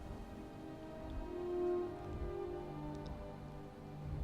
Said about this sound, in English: it happened to get rainy